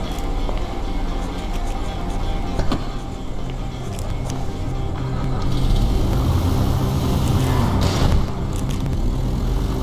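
A car being driven in Grand Theft Auto V on PC, a continuous engine drone with road noise that swells somewhat midway, plus a few brief clunks and bumps, steady at moderate loudness with no talk.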